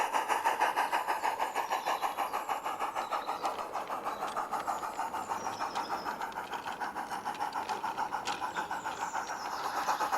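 A mixed train runs on the Peckforton Light Railway model layout, heading toward Peckforton Station. It gives a steady, rapid rhythmic chuffing, evenly pulsing and moderately close, with faint higher squeals over it.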